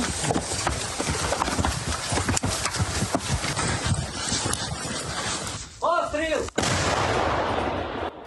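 Heavy, rumbling booms and blasts of a self-propelled artillery gun firing against a noisy outdoor background, with voices briefly calling out near the end.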